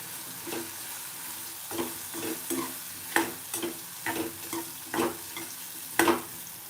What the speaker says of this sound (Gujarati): હળદર પાવડર એડ કરીશું મિક્સ કરી લઈશું